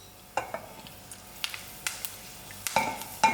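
Dry chilies, curry leaves and mustard seeds crackle in hot oil in a pot, with soft sizzling and a few sharp pops and spoon scrapes scattered over a quiet background.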